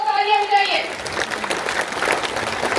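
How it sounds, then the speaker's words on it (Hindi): Applause from the audience at the Bharat Prawaas Awards 2025 ceremony for the passenger transport sector, loud and sustained clapping that swells in after a short bit of amplified voice at the start. "अब लोग तालियां बजाइए"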